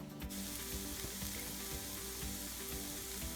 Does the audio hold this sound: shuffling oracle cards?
no